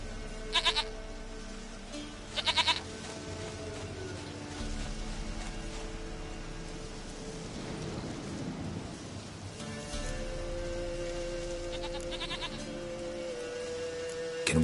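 A goat in The Witcher 3 bleats in short bursts a few times, with a low rumbling storm-like ambience and game sounds around it.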